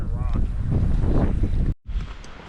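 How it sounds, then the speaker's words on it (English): Strong wind buffets the microphone on a cold, icy lakeshore in the Eastern Sierra, a rough, loud rumbling gust that cuts out briefly before resuming, with a hint of a voice early on. "It's too windy."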